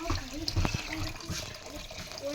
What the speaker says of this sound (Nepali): पानी हाल्ने। अब रस बन्छ।